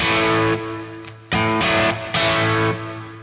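A loud, distorted electric guitar plays a chunky chord riff, with sustained chords cut off by short stops, close and with no voices.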